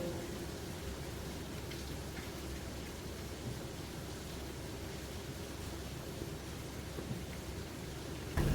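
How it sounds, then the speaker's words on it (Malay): Heavy rain pours steadily outside, a dense continuous wash of noise holding at an even level throughout with no clear thunder, and no voices. "Kat luar hujan masih lebat lagi tu."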